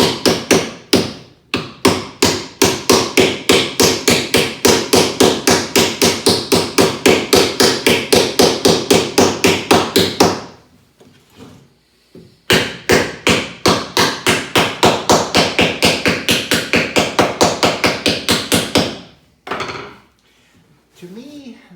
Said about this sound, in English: tappy tap.